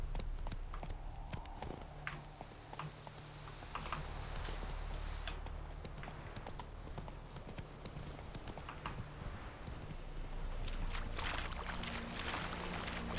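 Steady hoofbeats of a horse in The Witcher 3 video game clip-clop at a walking pace over a low ambient hum, with faint clicks mixed in.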